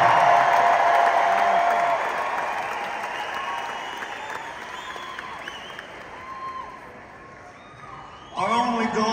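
A large concert crowd at a farewell tour show at Mohegan Sun, Connecticut, applauds and cheers, a loud dense roar that fades gradually before a sharp burst near the end.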